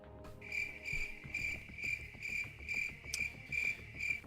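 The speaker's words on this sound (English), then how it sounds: "That gets the crickets." Crickets chirp as a sound effect, a steady high pulsing trill repeating in even bursts about twice a second over faint low background noise, alone without talk.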